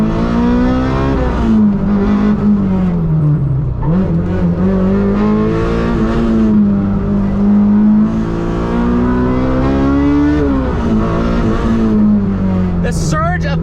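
A Honda S2000 engine revs loud and close on a canyon drive, its pitch climbing, dipping and climbing again through the gears, with a voice talking over it.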